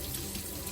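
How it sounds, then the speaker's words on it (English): A kitchen tap runs steadily as hands are washed under it, a brief close splashing stream with no talking. "And then we're gonna wash our hands again because we're about to touch this butter."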